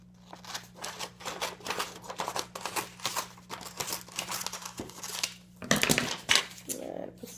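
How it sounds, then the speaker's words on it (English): A strip of tape is cut and torn while building a minotaur costume prop, giving a run of soft crinkly scissor and tape sounds at close range over a steady hum, with a louder rustle near the end. "I'll cut out another strip."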